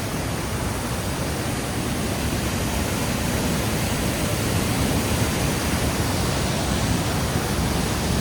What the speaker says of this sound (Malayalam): അടിയിൽ വെള്ളച്ചാട്ടമാണ്